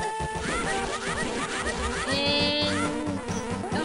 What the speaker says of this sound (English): And I hear a ton of bees